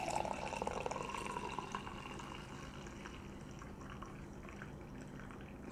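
French press coffee, steeped about six minutes with the grounds pressed down, poured into a cup already holding cream, giving a steady close liquid stream that trickles on without any speech.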